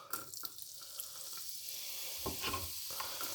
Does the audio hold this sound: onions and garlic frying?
yes